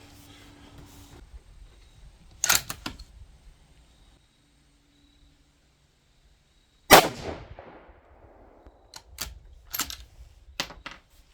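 6mm ARC rifle firing a 103-grain ELD-X load: one loud sharp shot with a ringing decay outdoors, surrounded by scattered mechanical clicks and clunks of handling, no talk.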